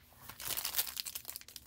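Foil wrapper of a 2019 Topps Star Wars Masterwork trading card pack crinkling up close, a short burst of sharp crackling and crumpling that rises and then scatters into quick rustles.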